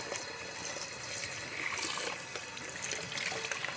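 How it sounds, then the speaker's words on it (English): Warm tap water runs steadily from a faucet into a sink for washing a tie-dye shirt, a soft continuous trickle and splash at low volume with no voices. "my water coming out of the tap is pretty warm right now"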